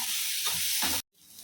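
Onions with salt and a pinch of turmeric sautéing in a pan, a steady close sizzle with a couple of stirring scrapes, breaking off briefly before the hiss resumes more quietly.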